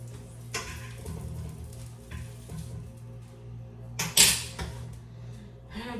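Eggs frying in a pan give a soft continuous sizzle, punctuated by a few clinks of utensils and pan handling, with one sharper clatter near the middle.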